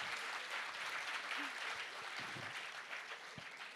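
A crowd of listeners at a talk with a guest applauds, a continuous wash of many hands clapping at moderate volume, with faint voices and a few low thumps mixed underneath.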